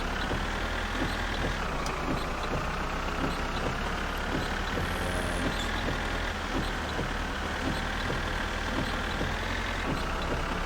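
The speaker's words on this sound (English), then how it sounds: "Nothing like driving in the rain in a tractor." A tractor in the game My Summer Car driving through rain, its engine a loud, steady, rumbling drone with a constant hiss of rain over it, no talking.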